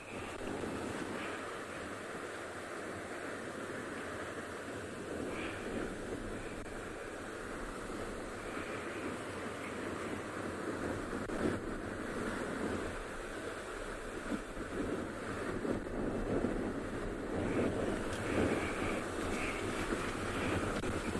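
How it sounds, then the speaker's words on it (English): Flowing water of the Mara River at sunset on safari, a steady broad rush with wind noise over the microphone, continuous and moderately loud throughout with no speech. "That's the sound of the water that I am getting from where I am."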